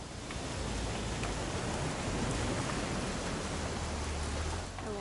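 Steady heavy rain pours down in the video game What Remains of Edith Finch, a dense, unbroken hiss of drops that stays loud and even throughout with no voices.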